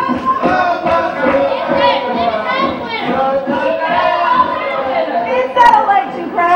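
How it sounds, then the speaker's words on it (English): Crowd of students in a high school senior class play, playing an election crowd, chattering and calling out together in a busy, continuous murmur with raised voices throughout. "It's that election crowd."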